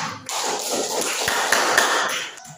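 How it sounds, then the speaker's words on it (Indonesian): A classroom of students applauds for a presenting group, a dense burst of clapping lasting about two seconds, close and loud, then fading out. "sekarang kita berikan aplaus untuk kelompok 3"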